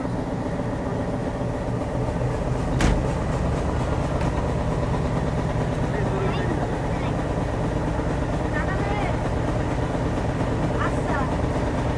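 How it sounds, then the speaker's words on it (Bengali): The Rocket Mail train pulls out of Daulatpur railway station with a steady rumbling roll and clatter that continues throughout, with one sharp knock early on and faint voices in the background. "আমাদের ট্রেন দৌলতপুর রেলওয়ে স্টেশনে নির্ধারিত যাত্রা বিরতি শেষ করে এখন ডিপার্চার নিচ্ছে"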